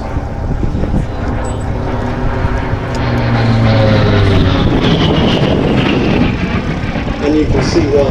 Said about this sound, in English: This thing, folks, really is the pinnacle of piston engine fighter design.